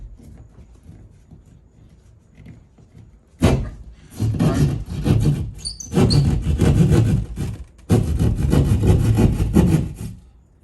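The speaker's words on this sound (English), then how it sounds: "This is regular drywall jab saw is what we call it. You take it, and it goes through drywall pretty easy." A hand-held drywall jab saw rasps through drywall while notches are cut, in steady rapid back-and-forth strokes that come loud and close in two long bursts, with a brief pause between them.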